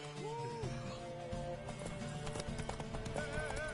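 Horse hooves pound steadily in a galloping race in the video game Witcher 3, a continuous rapid clip-clop close up with a brief whinny near the start.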